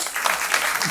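Applause from a stand-up comedy audience, a dense burst of clapping hands heard alone at fairly close range and steady loudness.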